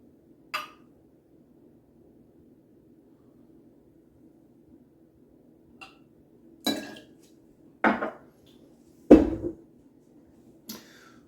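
Glassware clinking while a pineapple cocktail is mixed, a few separate sharp clinks and knocks spaced apart against a quiet background.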